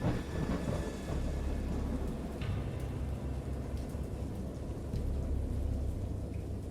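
A thunderstorm with steady heavy rain and a deep, continuous rumble of thunder rolling throughout, loud and close.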